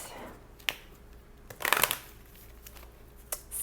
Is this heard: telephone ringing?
no